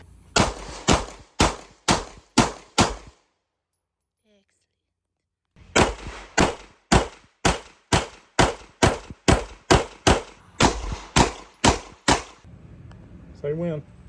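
A Canik TTI Combat pistol firing at a range: two strings of sharp, loud, evenly spaced gunshots, with a few seconds of silence between them and a faint rising tone and brief noise at the end.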